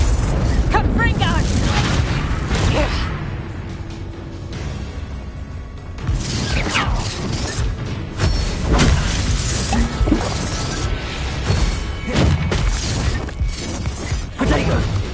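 Spell explosions burst repeatedly in a Hogwarts Legacy duel, loud crashing blasts and shattering debris layered over constant game effects and a shouting voice.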